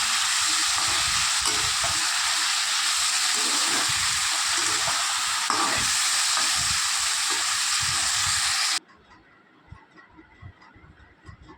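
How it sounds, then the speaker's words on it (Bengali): Potato and pointed gourd fry in a pan with ginger paste, tomato and green chili, giving a loud, dense sizzle that drops off abruptly to quiet near the end. "আলু পটলটা ভাজা হয়ে গেছে ওর মধ্যে দিলাম আদা বাটা টমেটো আর কাঁচা লঙ্কা"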